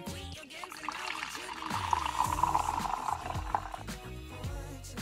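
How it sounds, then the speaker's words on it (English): Hot coffee pours steadily into a cup for several seconds, a soft continuous splashing that rises slightly in pitch as it fills. "Let's go ahead and just pour some of that hot coffee up in here."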